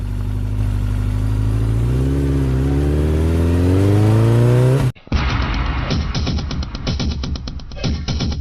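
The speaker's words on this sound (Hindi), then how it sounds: "तभी सन्नाटे को चीरती सुनाई दी एक मोटरसाइकिल की आवाज।" A motorcycle engine in a dramatized audio story revs loudly and rises in pitch as it draws closer, then cuts briefly before a rough, clattering idle and rumble continue close by with no talk.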